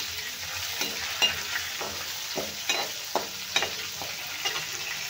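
Chillies and pumpkin roast in hot oil for chutney, giving a soft continuous sizzle broken by occasional stirring scrapes and taps of a spoon in the pan.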